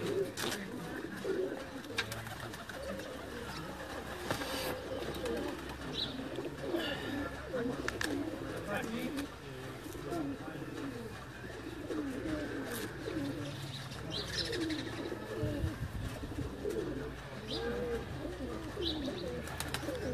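Bateri breed pigeons cooing on a rooftop in Sialkot, soft repeated coos layered with chirps and other bird calls over a steady outdoor background hum, with no voices.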